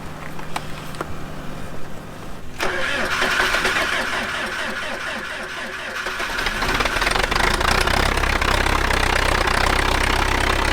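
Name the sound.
forklift diesel engine cold starting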